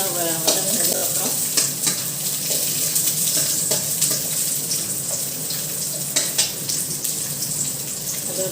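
Onions sizzle steadily in a hot pan while a spoon scrapes and stirs them in repeated knocks and clatters, all close and fairly loud, with no talking.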